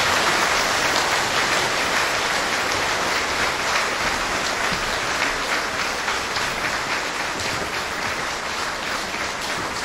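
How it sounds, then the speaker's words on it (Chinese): Sustained audience applause fills a hall at a celebration honoring Master Chin Kung's fifty years of Dharma teaching, a dense, steady clapping wash lasting throughout without any voices over it. "我们再次掌声"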